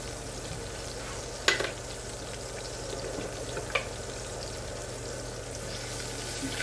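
About five cloves of minced garlic fry in a pan, an even sizzle holding steady throughout, with two sharp clacks of a utensil or lid, no voices.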